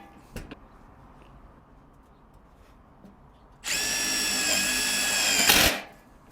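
A Milwaukee M18 2953 impact driver on mode 4 sinks a self-tapping screw in one loud, close burst of about two seconds of rapid hammering whir, following a quiet stretch and an earlier brief knock.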